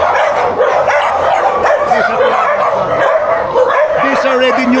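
Dogs awaiting adoption at a Philippine stray shelter bark and yip at a stranger, several animals loud and close, with overlapping barks, whimpers and a few higher yelps alongside people talking.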